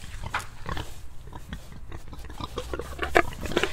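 Pigs on a low-tech farm grunting and snuffling close by, with irregular bursts of oinking and rustling movement, plus some chewing or feeding noises running underneath.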